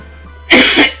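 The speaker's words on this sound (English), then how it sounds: "Sorry about the coughing." A single person coughs once, a short harsh burst close to the microphone, with a brief throat sound at the very end and quiet room tone before it.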